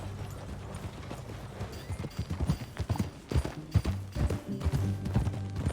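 Horse hooves clip-clopping at a steady pace, with occasional whinnies, in the Red Dead Redemption 2 video game, rhythmic and close over an ambient background.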